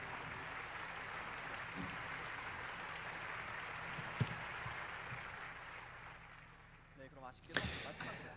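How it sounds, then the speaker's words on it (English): An audience at the YSP World Assembly applauds the two winning teams of the Synergy International 2021 contest: a steady, dense wash of clapping that fades toward the end, followed by a few louder knocks. "Let us give another round of applause to the two winning teams"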